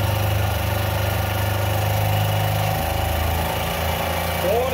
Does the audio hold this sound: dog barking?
no